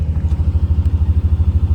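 A Mazda RX7 swapped to a Toyota 1JZ engine, with a stock ECU and the electronic throttle deleted, idles loud and close with a steady, lumpy pulsing throb and no voices.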